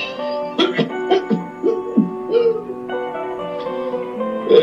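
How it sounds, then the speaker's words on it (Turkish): Repeated coughs, loud and close, come in short irregular bursts with brief pauses, some rough and throaty, with no speech between them. "Öksürüyor."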